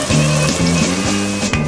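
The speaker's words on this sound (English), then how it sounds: "Now we're gonna add in our red wine." Red wine poured into a hot pan of sautéing ingredients with cinnamon for chicken and orzo gives a loud, steady sizzle and hiss lasting throughout, with a faint tonal hum underneath.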